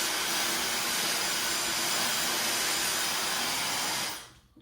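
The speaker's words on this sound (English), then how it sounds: "I will just take my blow dryer, give it a nice pass through." A blow dryer roars in a steady, loud whoosh of air, running without a break before cutting off abruptly near the end.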